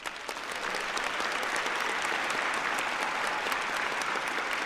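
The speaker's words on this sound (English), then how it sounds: "please give a big round of applause to this amazing class" A graduation crowd gives the graduating class a big round of applause, dense and sustained clapping that fills the hall evenly from start to finish.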